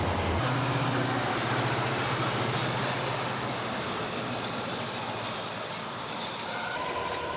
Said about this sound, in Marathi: अशाच एकदम इथं छोट्या छोट्या रेल्वे गाड्या जात असतात